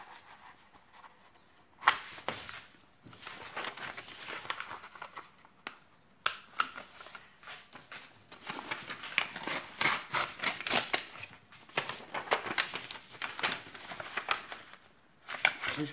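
Crisp paper rustling and creasing as a sheet is folded into an origami chicken, sharp folds and crinkles in quick bursts, close by, with no talking.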